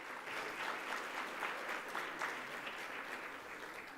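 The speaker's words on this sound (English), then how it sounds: "How about a round of applause for everybody that helped us put this together?" Conference audience applauding during a morning opening session at Brook Hills Resort and Convention Center. The clapping is dense and steady throughout, heard from within the room at a moderate level, with no talk.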